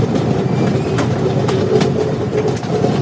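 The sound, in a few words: train running, rail coach in motion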